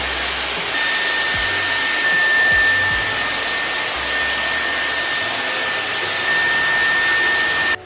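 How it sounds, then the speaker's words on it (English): Dyson Airwrap hair styler blowing air while curling hair, a steady loud close whooshing hum with a faint high whine, continuous until it cuts off at the end. "By the way, a Dyson Airwrap is so worth it."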